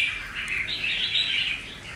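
A caged songbird, a red-whiskered bulbul, sings a continuous run of bright warbling chirps, close and clear, with no voices over it.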